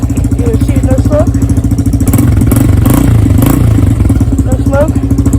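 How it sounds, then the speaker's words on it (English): An XR dirt bike engine runs close and loud in a steady, rapid idle with an even mechanical chug throughout, while someone talks over it. "I turn it on for a couple seconds, already idling."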